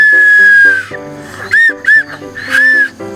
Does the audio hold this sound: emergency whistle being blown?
yes